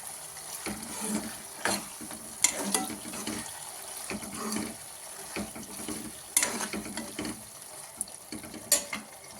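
Vegetable noodles with chili sauce cooking in a pan, a steady soft sizzle broken by repeated scraping and stirring clatters at irregular intervals, close and moderately quiet with no voices.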